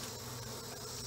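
Honeybees hum in a steady, close drone during a hive inspection of a colony with spotty brood, the buzzing continuous and even throughout this short moment with no voices.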